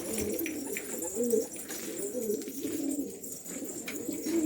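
Several pigeons coo steadily and close by in a bird enclosure, their soft throaty calls overlapping throughout with no talking.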